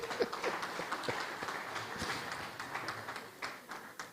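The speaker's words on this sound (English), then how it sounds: "A round of applause for my Lord" Audience applause at a privacy conference in Nigeria, following a judge's ruling: a broad wash of clapping with scattered sharper hand claps, steady throughout, no voices over it.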